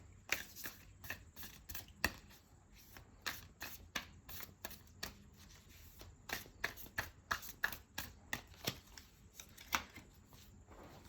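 A Feminine Wisdom Oracle card deck being shuffled by hand, a close, steady run of crisp riffling snaps and slaps repeating for several seconds with no talking.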